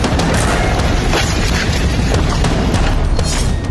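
A massive explosion in Lebanon sounds as a loud, continuous roaring rumble with deep low boom energy, sustained and dense throughout without any voices.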